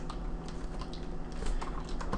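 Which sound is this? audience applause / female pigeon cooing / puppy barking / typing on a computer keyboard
typing on a computer keyboard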